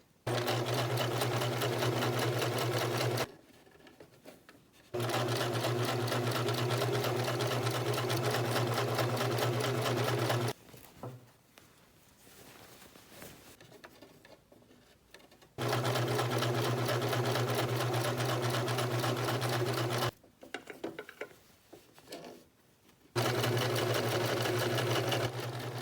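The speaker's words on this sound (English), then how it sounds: "I'm just sewing over the ends again to lock them in place" Sewing machine stitching back over the elastic ends of a ruched crop top, several loud steady bursts of rapid needle chatter separated by short pauses.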